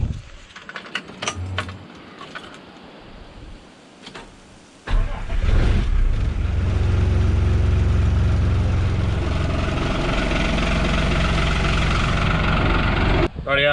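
An Isuzu F-Series truck sits quietly with a few clicks and knocks before its engine cranks and catches, then settles into a loud, steady, close idle that runs to the end.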